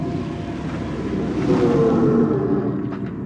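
A Dodge Charger Daytona Scat Pack electric muscle car playing its synthetic engine sound, a steady low rumbling drone that swells a little midway, heard alone without talk.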